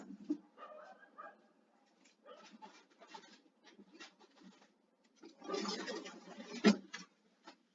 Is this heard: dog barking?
yes